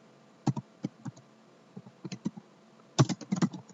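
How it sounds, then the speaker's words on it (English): Keys tapped on a computer keyboard while a name is entered into an online form, short bursts of crisp, close clicks with pauses between them, ending in a quicker flurry, no talking. "you need to type your father's name here"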